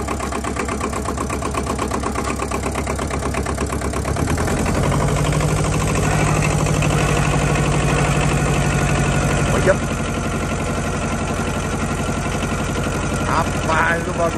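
A tractor engine idles close by with a steady low rumble, then its pitch drops and settles into a throttled-down idle partway through, with someone talking over it at times.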